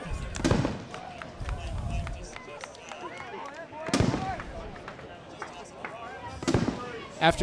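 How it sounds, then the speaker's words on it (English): Post-game fireworks at Campanelli Stadium after a 2014 FCBL All-Star baseball game, with sharp booms and crackles bursting at intervals, fairly distant, while a commentator talks throughout. "We're going to toss it over to the fireworks show, the post-game fireworks show going off"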